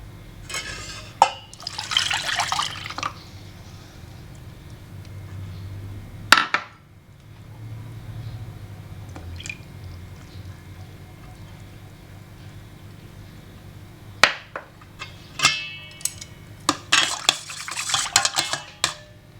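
Eggs being beaten and mixed with drinking water and shiro dashi for Japanese steamed egg custard, with clinking utensil-on-bowl strikes in bursts between quieter stretches, close and fairly loud.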